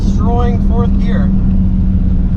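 An Infiniti G35 accelerates hard in fourth gear, a steady loud engine drone holding throughout while a voice whoops and exclaims over it near the start.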